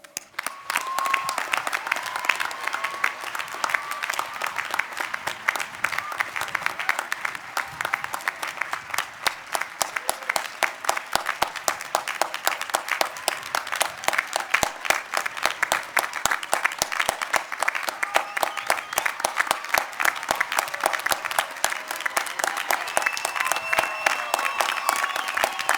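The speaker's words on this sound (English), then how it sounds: "And one more round of applause." A college commencement audience breaks into sustained applause, dense rapid clapping from a large crowd that holds steady for the whole stretch with a few faint cheers.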